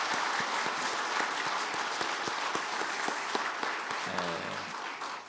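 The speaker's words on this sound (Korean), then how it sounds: "우리 격려의 박수 우리 다 같이 한번 하겠습니다." A church congregation claps together in sustained, dense applause that fills the room, then fades near the end as other sounds come in.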